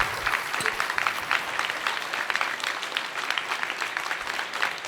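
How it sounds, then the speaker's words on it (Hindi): Dense, steady applause from a large audience at an Indian literature festival interview, continuous clapping that holds at an even loud level throughout with no speech. "तालियों की गड़गड़ाहट रुकनी नहीं चाहिए।"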